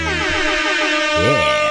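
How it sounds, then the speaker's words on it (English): Loud, blaring air horn blasts at a bar's anniversary event sound continuously and close, one tone bending up and down near the end. "air horns coming at you"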